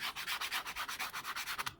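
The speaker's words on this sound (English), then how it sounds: "Then we're going to take a handy dandy sanding block." A sanding block rubs back and forth over the wooden end of a shirasaya tanto in a quick, even rhythm of about fourteen close, crisp scratching strokes, then stops.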